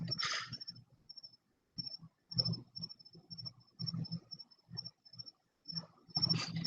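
Night crickets chirp outdoors beneath a cloudy supermoon sky, their thin high pulses repeating steadily over low rumbling and scattered knocks, with a louder rustle at the start and end.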